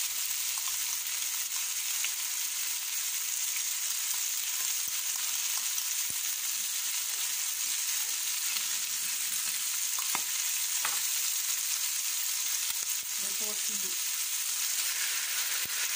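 Bell pepper paste with white pepper sizzling in a pan while being stirred for a pork belly feijoada, a steady bright hiss with occasional scraping stirs, alone with no talk.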